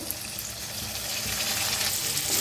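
Onion and tomato fry in a pan for a potato usal curry, a continuous loud sizzle and hiss that builds slightly, close and with no voices over it.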